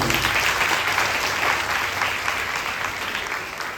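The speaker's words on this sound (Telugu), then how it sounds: "చప్పట్లు కొట్టు సంతోషం." Audience at a church feast of St. Anthony clapping together in a dense, steady round of applause that fades slightly toward the end.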